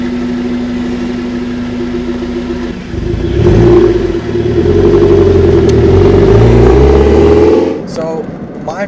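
Toyota MR2 Spider pulling away, an idling engine rising into a revving acceleration that grows then fades, with speech over parts of it.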